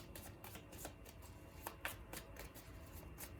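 Golden Tarot cards are shuffled by hand in quick, rhythmic bursts of crisp riffling and soft slaps, close and quiet with no talking.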